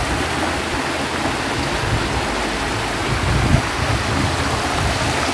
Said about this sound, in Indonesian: Ini ada airnya terjun juga